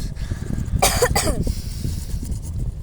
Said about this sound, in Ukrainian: Зараз я теж кашлю